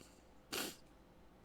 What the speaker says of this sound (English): I sneezed and now my nose is all fooky